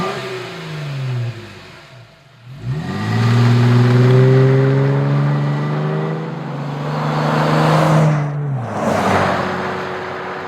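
Flowmaster Force II axle-back exhaust on a 2012-18 Jeep Wrangler JK with the 3.6L V6, heard from outside as the engine is revved up twice, each rise and fall loud and close with a moderate performance tone.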